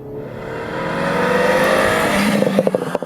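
A Mini Cooper John Cooper Works engine revs loudly and builds in pitch, then breaks into sharp throttle blips and pops near the end, heard up close with no talking.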